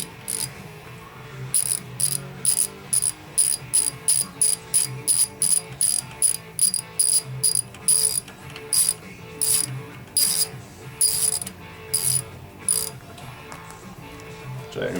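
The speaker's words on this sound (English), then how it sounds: "using that number 10 socket wrench, 10mm, just put these guys back on." A 10mm socket ratchet wrench tightens front brake bolts on a 1983 Honda Magna VF750C motorcycle, giving a steady run of quick, sharp clicking bursts close up, repeated in rhythmic strokes with brief pauses between them.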